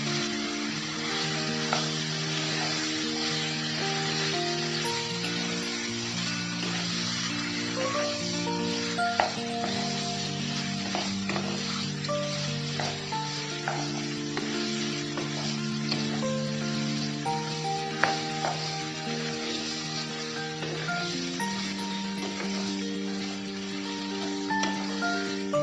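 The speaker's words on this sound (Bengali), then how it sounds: "মশলাটা কষানো হয়ে গেলে ম্যারিনেট করা চিকেনটা দিয়ে দিলাম।" Marinated chicken sizzles steadily in a pan of fried spice masala, a constant hissing fry with occasional stirring scrapes, under a tonal background.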